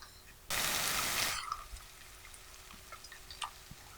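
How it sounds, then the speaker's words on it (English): Fermented locust beans (iru) washed in water in a home kitchen, with a dense splash of running or stirred water lasting nearly a second, followed by faint drips and small clinks. "So I'm going to wash that and put in the pot."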